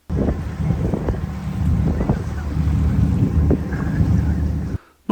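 Boat engine drone on a sea crossing mixed with wind buffeting and splashing water, steady and fairly loud throughout, cutting out abruptly near the end.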